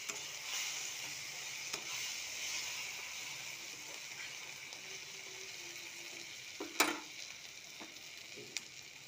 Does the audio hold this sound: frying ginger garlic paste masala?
yes